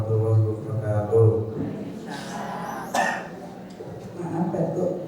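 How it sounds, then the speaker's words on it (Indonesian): Someone speaks, then gives a couple of short, harsh coughs in the middle before his voice continues. "Maaf Batuk, saya Batuk ini."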